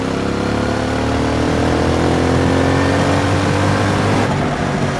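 A 2023 Triumph Speed Twin 1200 motorcycle engine runs loud and steady, its deep rumble rising in revs with no voices present.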